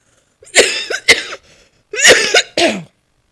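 Two bursts of harsh, loud coughing close by, caused by acid reflux, each a quick cluster of two or three coughs with a short pause between.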